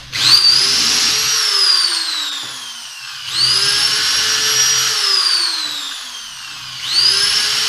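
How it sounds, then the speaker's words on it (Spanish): A power drill bores through melamine board in three long bursts, each motor whine rising and then winding down, loud and close with short pauses between. "Y lo vamos a agujerear. De esta forma."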